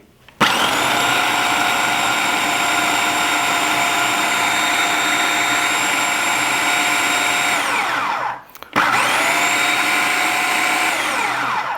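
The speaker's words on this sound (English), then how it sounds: "putting them in a mixer and giving them a mix until you've got sort of like a flour consistency" Electric mixer grinding walnuts and granulated sugar into a flour, a loud steady high-pitched whirring drone that winds down briefly near the end, then restarts for a second burst.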